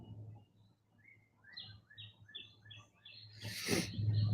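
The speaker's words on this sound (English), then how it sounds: "Your birds have your cat on edge." Birds chirp in a series of short, high tweets, fairly quiet, before a louder rustling burst near the end and a low hum underneath.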